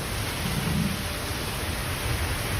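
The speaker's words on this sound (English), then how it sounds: "The rain poured relentlessly, drowning the city in mere hours." Heavy rain pours down during flooding in Valencia, a dense steady hiss of downpour with low rumbling underneath, continuous and close.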